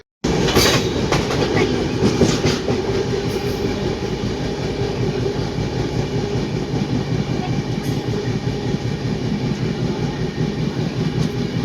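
A passenger train from Delhi to Agra runs steadily along the rails with a continuous rumbling roar and faint rhythmic clatter of wheels, heard from inside a carriage.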